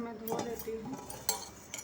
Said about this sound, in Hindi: अब यहाँ किचन में आ गई हूँ बर्तन धोने के लिए।